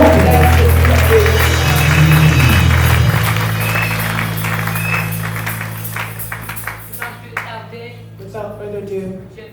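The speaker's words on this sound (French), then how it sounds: "Que le peuple de Dieu acclame." A church congregation applauding and acclaiming, rapid clapping over sustained organ or keyboard chords and crowd voices, the clapping becoming sparser and more distinct toward the end.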